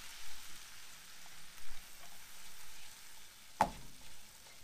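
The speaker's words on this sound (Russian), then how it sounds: "Будем обжаривать муку, ну, буквально там минута-две" Flour fries in a pan over medium heat with a faint, steady sizzle and light stirring scrapes, close by and quiet, with one sharp tap near the end.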